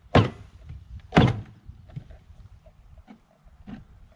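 Two heavy thuds about a second apart as a package box of live bees is banged down, followed by a few fainter knocks and rattles.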